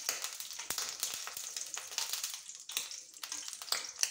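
Mustard seeds and cumin crackle in hot oil for a Telugu perugu pachadi, a steady bright sizzle broken by sharp popping bursts, close and fairly loud with no talk.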